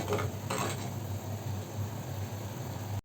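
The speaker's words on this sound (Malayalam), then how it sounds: "ഇനി ഇതിലേക്ക് നമുക്ക് മീൻ കഷ്ണങ്ങൾ ചേർത്ത് കൊടുക്കാം കേട്ടോ." Thick fish pieces are dropped into a pot of Kottayam-style fish curry, with a couple of clinking, clattering pot sounds early on over a steady low kitchen hum.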